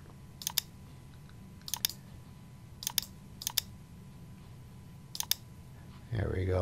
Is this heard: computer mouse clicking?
yes